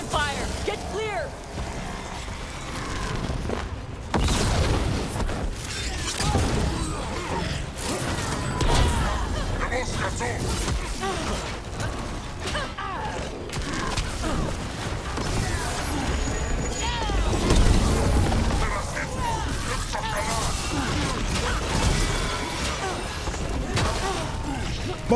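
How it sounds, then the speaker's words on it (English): Cannon fire booms through a chaotic battle in Dragon Age: The Veilguard, with heavy crashing impacts rising out of a dense, continuous wash of combat noise as voices talk over it. "Cannon fire! Get clear!"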